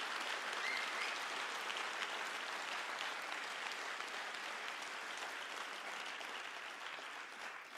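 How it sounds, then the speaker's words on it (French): Audience at a Paris peace event applauding warmly, a steady, dense wash of clapping that holds throughout and tapers only slightly at the end. "n'est autre que mon ami Tahani Aboudaka, que je vous demande d'applaudir chaleureusement."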